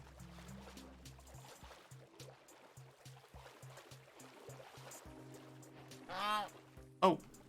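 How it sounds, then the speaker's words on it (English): A goose honking in the video game Minecraft, a short nasal honk followed by a sharper second honk, over quiet game background and a voice talking. "Sound like the goose was saying no."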